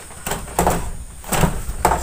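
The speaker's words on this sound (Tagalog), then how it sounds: "So, yan, sinasarado ko tong pintuan na yan." A door being closed in a rural home, with a few bumps and knocks of the door at irregular intervals, close by and fairly loud against steady background noise, with no talking.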